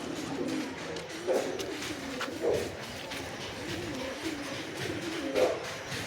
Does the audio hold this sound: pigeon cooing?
yes